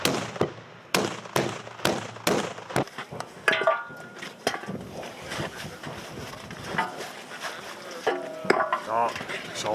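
A rapid series of loud, sharp carbide cannon booms, about one per half second, followed by scattered bangs among crackling outdoor noise and faint voices, in Friesland, Netherlands.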